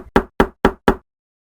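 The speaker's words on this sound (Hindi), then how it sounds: "फिर एक दिन उनके दरवाजे पर दस्तक होती है।" Four evenly spaced, solid knocks on a door, close and loud, followed by silence.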